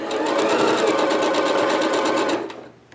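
A sewing machine runs in one loud, continuous close burst while stitching an inset Y seam, then slows and stops near the end.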